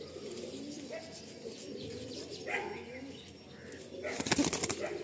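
A female Madrasi pigeon of the Pecha Mukho breed coos softly close by, then a sudden burst of wing flapping near the end.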